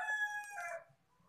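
A rooster crows close by, loud at first, then the call trails off and fades to near silence.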